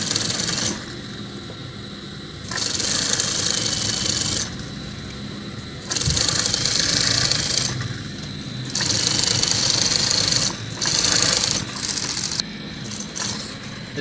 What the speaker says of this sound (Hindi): इसी तरह ये आपने दूसरे किनारे पर भी सिलाई लगानी है।